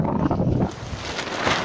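Strong wind gusting against a camp tent, a rough, buffeting roar that batters the microphone, louder at first and then settling into a steadier rush.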